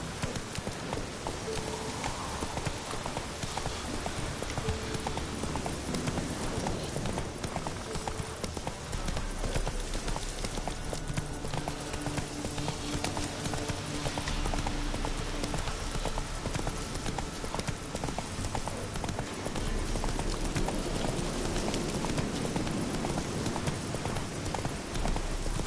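A horse's hooves clip-clopping steadily while being ridden in The Witcher 3, a continuous rhythmic trot under dense, rain-like background noise throughout.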